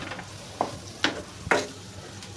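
Dried lati fish sizzles steadily in a frying pan as a spatula stirs it, three or four distinct scraping strokes rising above the constant crackle of the oil.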